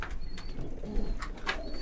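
A young Vienna pigeon in a pigeon loft gives soft, low cooing, with faint chirps from other birds and a muffled indoor background.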